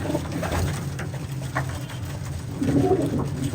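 Pigeons coo softly and repeatedly nearby, low throaty calls over a faint background hum.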